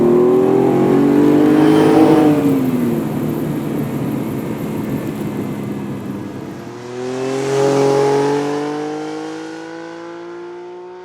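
Ferrari Dino 246 GTS with stock exhaust and intake revving loudly, rising to a peak, easing off, then climbing again in a second strong rev before settling back down.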